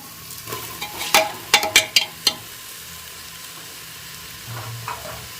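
Rice is stirred and fried with softened tomatoes in a pan: a bed of soft sizzling under a quick burst of sharp spoon scrapes and clacks, then quieter stirring near the end.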